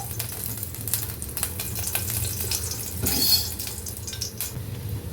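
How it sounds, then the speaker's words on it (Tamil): Steady, crackling sizzle of two spoons of oil heating in a hot pan, continuous and fairly close, with a brief louder flare of spattering midway. "இப்போது பேன் நல்லா சூடாகிடுச்சு அதில் நம்ம ரெண்டு ஸ்பூன் எண்ணெய் விட்டுக்கலாம்"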